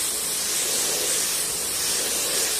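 A spray gun lays a first light coat of Speedokote 2K primer after the air pressure has been turned down, giving a steady, close, loud hiss of atomized spray that runs unbroken without a pause.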